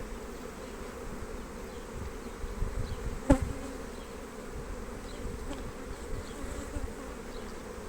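Honey bees swarm thickly around a hive frame during a colony inspection, giving a steady, close drone of buzzing with one sharp click partway through.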